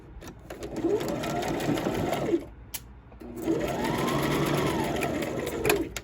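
A sewing machine stitches lightweight knit fabric for a jogger set in two close, steady runs with a brief stop between them, the motor whirring up and down at each start and finish.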